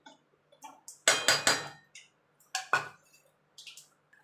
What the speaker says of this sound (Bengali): এবার আমি আলু পটলটা দিয়ে দেবো। দিয়ে ভালো করে আলু পটলটা মশলার সঙ্গে কষিয়ে নেব